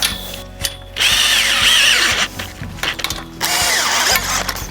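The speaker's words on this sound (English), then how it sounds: "Now you'll just go ahead and tighten up the nut on the back side of the brace band" A power tool tightens the nut on a brace band of a Caterpillar high tunnel greenhouse kit frame, sending out loud close bursts of motor whine with ratcheting clatter, broken by brief pauses.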